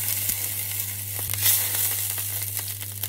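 Steady, faint sizzling of a steak frying in a hot pan with a little coconut oil, a continuous crackle with occasional small pops and a low hum underneath.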